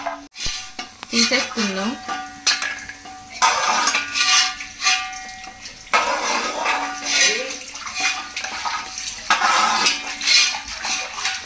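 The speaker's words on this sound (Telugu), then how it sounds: "తర్వాత జీడిపప్పు, తర్వాత కిస్మిస్, ఇవి కొంచెం ఫ్రై చేసుకోవాలి ఫ్రెండ్స్" Cashews and raisins fry in a pan for Arabian chicken mandi biryani, a steady close sizzle mixed with spoon scrapes and clinks against the metal, while a voice talks over the cooking.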